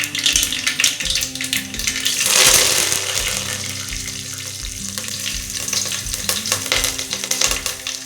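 Mustard seeds and curry leaves sizzle and crackle in hot tempering oil for sambar, a steady, close frying hiss with dense popping throughout and a brief louder surge midway, no voices.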